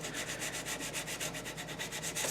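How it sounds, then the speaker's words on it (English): Steady rhythmic scratching of sandpaper rubbed back and forth over a waxed, shellacked wooden school desk top, close and continuous, with regular strokes and no voices. "Sand the top surface."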